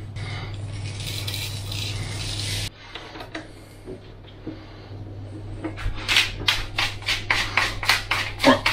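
Black pepper ground by hand in a pepper mill for a Cajun chicken and smoked sausage jambalaya, a close series of rhythmic ratcheting crunches that grow louder and more regular toward the end over a low kitchen hum.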